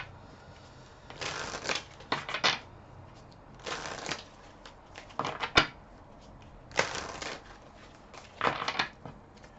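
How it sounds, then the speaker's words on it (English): A deck of Island Time Wellness oracle cards is shuffled and pulled close up, heard as five or so quick papery riffling bursts separated by short quiet pauses. "So let's pull some Island Time Wellness cards here."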